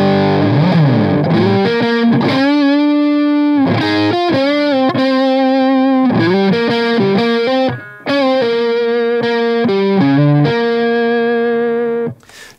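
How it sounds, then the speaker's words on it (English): Reverend Charger HB electric guitar on the neck pickup through the dirty channel of a distorted amp, a loud, thick sustained lead line of bending and held notes with a brief gap near the end. "Definitely has a really fat and beefy, meaty lead tone on that neck pickup with the bass roll off all the way up."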